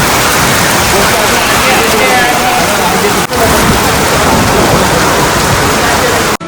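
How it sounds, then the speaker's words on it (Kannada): Heavy rain hammers down loudly and close at Kukke Subramanya, a thick continuous roar of downpour that holds steady for several seconds and cuts off briefly near the end. "ಫುಲ್ ಜೋರಾಯಿತು ಮಳೆ"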